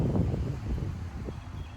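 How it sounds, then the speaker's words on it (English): Outdoor wind buffeting the microphone, a low, rumbling, fluctuating roar with gusty swells, steady and close throughout with no voices. "It's windy right now."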